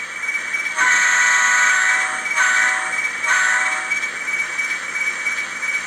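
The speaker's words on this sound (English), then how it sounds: "A little horn sound." A model locomotive horn from a DCC sound decoder in an Atlas Classic RS1 sounds in three distinct blasts, the first longest and the last two shorter, clear and close over a faint background hum.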